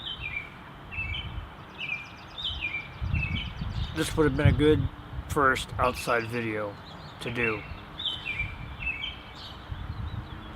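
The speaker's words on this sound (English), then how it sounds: "There's a tree over here and there's a bird in the top of it just making all kinds of noise." A bird perched high in a treetop outdoors repeats a series of chirping calls, clear and moderately close, while someone talks over the calls in a breezy setting.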